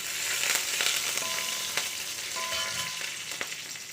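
Curry leaves fry in hot oil with dried red chillies and chana dal, giving a steady bright sizzle with sharp crackling pops scattered across the clip, with no talking.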